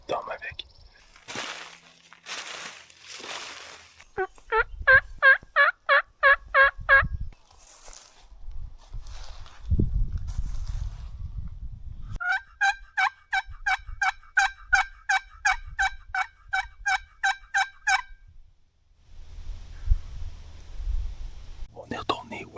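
A wild turkey gobbles in two long rattling bursts during a hunt, each a rapid series of pulsed notes, loud and fairly near, with soft whispered talk, rustling and thumps of movement between them.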